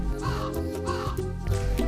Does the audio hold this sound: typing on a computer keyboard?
no